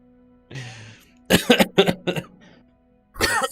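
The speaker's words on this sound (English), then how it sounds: "Coughing down the bloody microphone." A man coughs close into a microphone: a short throat sound, then a loud burst of several harsh coughs, and another cough at the end.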